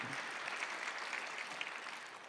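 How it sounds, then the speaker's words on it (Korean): Church congregation applauding during a Sunday afternoon worship service, a steady wash of clapping held for about two seconds at moderate, roomy distance. "박수하세요."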